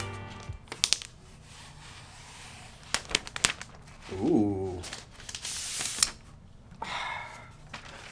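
Protective plastic film is peeled off a new 2020 13-inch MacBook Pro, giving several close, crinkly tearing bursts with brief pauses between them. A short exclamation is voiced partway through.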